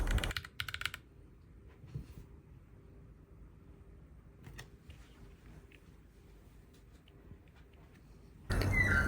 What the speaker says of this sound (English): I like the clicky sound of the brown switch